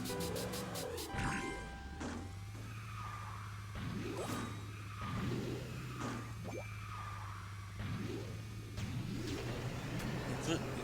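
A kart races with booster bursts in the KartRider video game, a steady engine drone with rising whooshes and skid-like sweeps repeating every second or two, loud and continuous with no talk.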